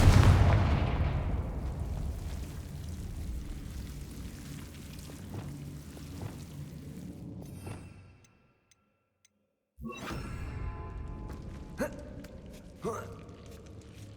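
A Confringo fire spell explodes in the Hogwarts Legacy game, opening with a loud boom that rumbles and decays, then a silent gap before more game sounds and sharp cracks return.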